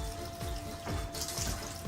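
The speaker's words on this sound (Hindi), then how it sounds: "छन्नी में पानी नहीं भरा जाएगा, पानी टपकता है" Water runs and drips through a kitchen strainer, a continuous close trickling splash that swells slightly midway, with no voices.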